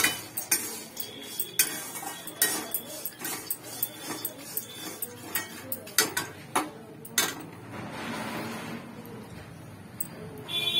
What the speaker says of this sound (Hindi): अब इनको हम अच्छे से मिक्स कर लेंगे